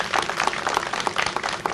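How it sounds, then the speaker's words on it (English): Crowd applause at a house demolition event in Kentland/Palmer Park, a moderate burst of many hands clapping steadily for a couple of seconds. "Can we give him another round of applause?"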